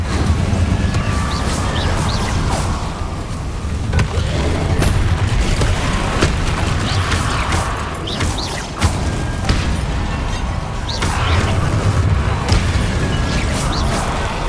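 Incendio and Confringo spells in Hogwarts Legacy combat produce dense, continuous magical blasts, whooshes and crackling impacts, with loud booms recurring every few seconds over a busy, roaring game soundscape.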